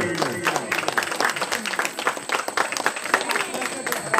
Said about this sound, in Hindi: तेणु जोरसोर करताली हो जाऊ।